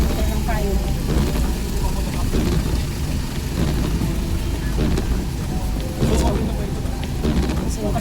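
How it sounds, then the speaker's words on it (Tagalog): Heavy rain pouring down in a dense, continuous hiss with low rumbling, loud and close, while people talk over it and an engine seems to idle nearby. "Grabe ang lakas ng ulan guys."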